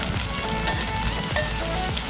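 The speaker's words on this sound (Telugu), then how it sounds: "గోల్డెన్ బ్రౌన్ వచ్చే వరకు వేయించుకోవాలి" Steady, close frying of curry leaves and fish in hot oil until golden brown, a dense crackling sizzle that runs without a break and has no voices over it.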